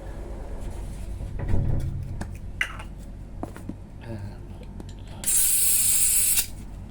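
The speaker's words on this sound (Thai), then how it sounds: "หยิบแก๊สให้หน่อย กระป๋องสีฟ้า" Gas from a blue gas can sprays into an airsoft magazine in one loud, close hissing burst of about a second, after several small handling clicks and taps, with faint talk in the background.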